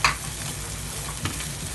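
Capsicum, carrot and cabbage frying in two tablespoons of olive oil in a pan, a steady close sizzle with a brief scrape of stirring at the start.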